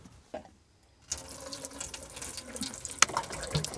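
A bath tap on a narrowboat is turned on after a brief quiet pause. Water gushes in a steady, close splashing stream, with a sharp clunk partway through.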